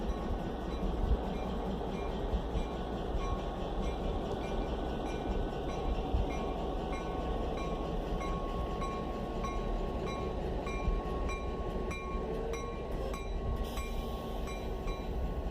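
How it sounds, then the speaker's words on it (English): A GP7 diesel locomotive idles and rumbles steadily as it moves slowly into position to couple to passenger cars, its engine drone constant with faint squeals and clanks near the end. "GP7 1751 is now moving into position to hook up to the consist of cars"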